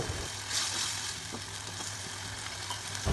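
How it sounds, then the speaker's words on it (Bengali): Ground coriander, turmeric and chili powder frying in hot oil for a snakehead fish and Malabar spinach dish, giving a continuous, fairly loud close sizzle with faint utensil movement and no voices. "এখন মশলাগুলোকে ভালো মতো কষিয়ে নিব।"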